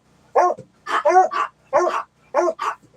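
A dog barks in short, close bursts, roughly five yaps and barks in an uneven rhythm, heard clearly in a quiet home with no talk over it.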